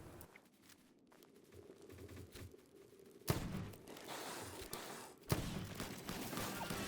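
Shotgun fire at a group of mini bosses in the Palworld video game, with two sharp, loud blasts a couple of seconds apart over a quiet ambient bed.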